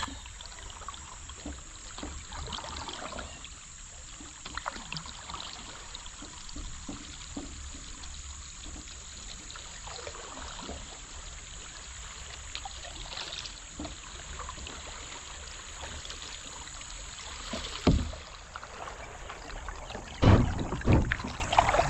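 A kayak moves downstream through a stretch of rapid stream water, with a continuous soft rush and trickle of flowing water, occasional paddle splashes and louder sloshing bursts near the end.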